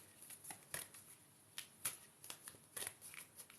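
Reading cards being shuffled by hand, a run of soft riffling flutters and taps at close range, fairly quiet, with no talking.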